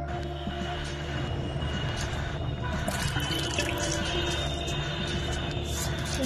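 Steady rushing water, like a tap running, continuous and fairly close, with a constant background hum throughout.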